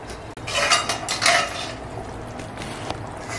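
A metal lid clatters onto a pot of simmering Karli fish curry, with a few sharp clinks and rattles of cookware near the start, then a quieter kitchen background.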